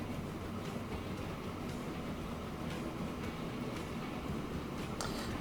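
Steady low rumble of a train running in the Transport Fever 2 video game, a continuous rolling drone with faint clanks, alone with no talk, moderately quiet throughout.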